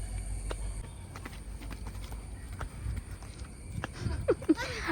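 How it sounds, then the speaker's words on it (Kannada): A donkey walks along at a steady pace, its hooves clip-clopping faintly in a quiet outdoor setting, with one or two brief animal calls near the end. "ಇದು ಕತ್ತೆ"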